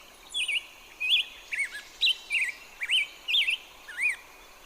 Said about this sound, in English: who wouldn't want to wake up to the sound of this lovely song right outside their window?